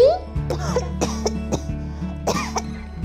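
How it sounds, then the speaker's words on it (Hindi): A few short coughs, close and fairly loud, mixed with brief vocal sounds. "खांसी"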